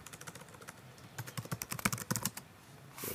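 Someone types a survey title on a computer keyboard in a quiet room, with bursts of close, crisp key clicks in an irregular rhythm and brief pauses between words.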